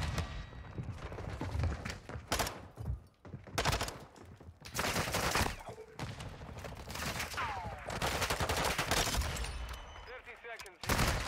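Rapid gunfire from a Vaznev rifle in a shooter video game, bursts of sharp automatic shots in clusters with brief gaps, mixed with game sounds and a voice talking over it.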